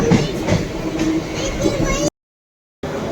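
A Mumbai local train rolls along during rain, its steady loud carriage rumble filling the ride before cutting out briefly and returning.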